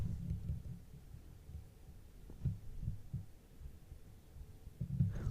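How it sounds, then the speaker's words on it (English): Heartbeat picked up through a microphone stand balanced on a person's chest: a steady run of soft, low thumping pulses over a faint hum, close and muffled, with no talking. "I can hear my own heartbeat"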